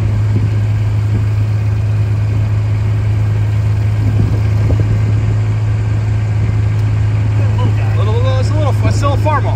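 Big quad-track and Steiger tractors rumble at a vintage tractor show in Rantoul, Illinois, a loud, steady low engine drone throughout, with someone talking over it.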